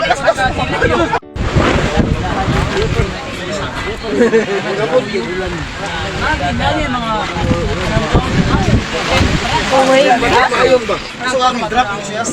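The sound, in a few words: wind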